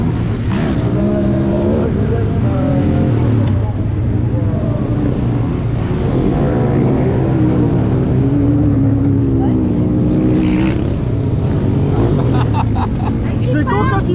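Rally car number 225 roars past under hard acceleration, its engine note rising and falling through a corner amid crowd noise and a commentator talking over the loud, continuous run.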